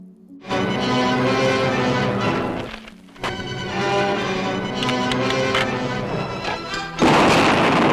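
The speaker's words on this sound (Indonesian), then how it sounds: "Mereka pun langsung membagi tugas dan mulai meledakkan tempat persembunyian si Bobby satu persatu." Explosions as hideouts are blown up one after another in an action film, loud crashing blasts with rumbling debris and ringing, layered over dramatic film sound, with a final burst near the end.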